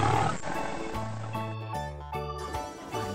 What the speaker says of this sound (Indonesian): Ada singa.